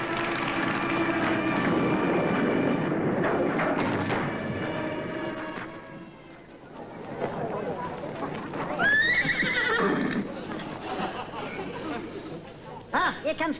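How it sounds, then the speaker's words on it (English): A horse whinnies and its hooves clip-clop in a comedy sketch at a street bus stop, with voices talking over it before a clear high neigh rises near the end. "Is that a horse I see?"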